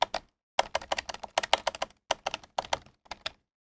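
Close, crisp computer keyboard typing in quick bursts of keystrokes with short pauses, as a line of Roblox code is deleted.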